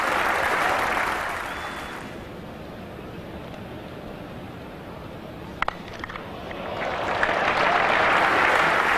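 A cricket crowd applauds and cheers a back-foot shot, a broad roar of clapping that swells loud, fades to a low murmur in the middle, then rises again at the end.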